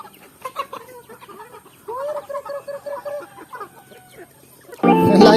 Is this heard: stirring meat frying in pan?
no